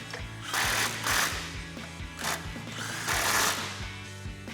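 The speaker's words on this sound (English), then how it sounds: "grab our impact and socket and tighten them down" An impact wrench and socket tighten two 10mm bolts on the front sway bar mount of a 2007-2015 Chevrolet Silverado 1500, giving repeated loud, close bursts of rapid hammering rattle with brief gaps between them.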